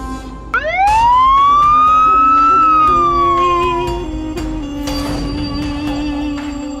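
A loud police siren wails, its tone sweeping up and holding high before slowly falling, with a brief noisy burst near the end.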